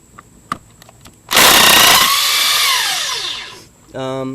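A few sharp clicks, then a loud power drill with a T50 bit whirs steadily for about two seconds removing a star bolt from a 1999-2004 Mustang steering column, winds down, followed by a brief second burst.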